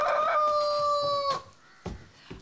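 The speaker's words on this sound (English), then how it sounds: "I despise a flogging rooster." A rooster lets out one loud, close crow lasting just over a second, with a rising and falling tone. A few dull thumps follow in otherwise quiet surroundings.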